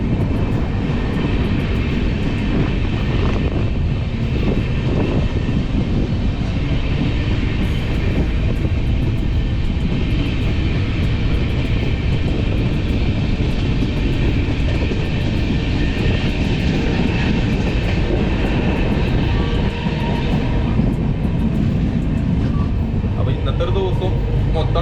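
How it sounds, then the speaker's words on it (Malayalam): An express train running near Nellore on the Thrissur to Delhi route, heard from inside a carriage: a continuous deep rumble of wheels and motion with a steady hum that lasts throughout. "ഇന്നത്തെ ഒരു ദിവസം മൊത്തം ട്രെയിൻ തന്നെയാവും."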